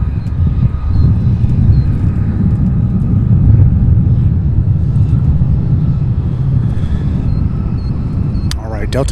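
A Delta Connection regional airliner taxis at Louisville airport, its steady low engine rumble running continuously and fairly loud, with a brief voice near the end.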